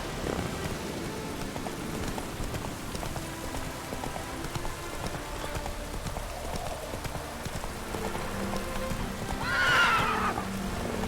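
Rapid hoofbeats of a horse urged on in The Witcher 3 run steadily under rain, and near the end the horse gives a loud whinny.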